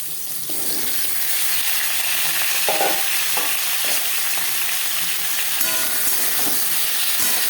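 Snake gourd fries in a pan with a cumin and dried chilli tempering, giving a steady close sizzle broken by several utensil scrapes and stirring knocks.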